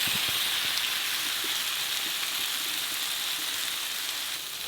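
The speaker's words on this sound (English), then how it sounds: "I'm gonna simmer this for about 15 minutes." Tomato puree sizzles and bubbles steadily in a pan, a continuous hissing crackle with soft pops, heard close and alone without talk.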